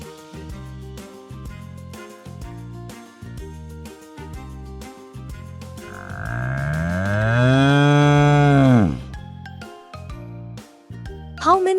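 A single cow moos loudly in one long, rising then falling call, set over steady background music with a bouncy children's-song rhythm.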